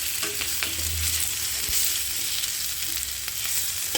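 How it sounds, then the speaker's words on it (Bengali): Potato pieces sizzle steadily in hot oil in a kadai, a continuous close frying hiss with occasional scraping stirs and low clatter throughout. "দেখো আলু আমার খুব সুন্দরভাবে ভাজা হয়ে গেছে"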